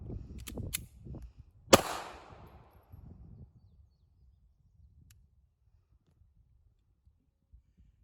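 A single handgun shot fired after drawing from concealment: one sharp, loud crack with a brief decaying tail, preceded by soft handling clicks and followed by near silence.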